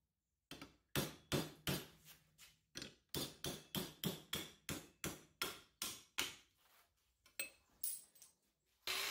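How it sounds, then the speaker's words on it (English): A hammer knocks out a cut piece of metal pipe with about twenty sharp, loud, ringing blows in a steady, slightly irregular rhythm, each strike close and distinct, tapering off toward the end. "Now we'll use a hammer to knock out that piece."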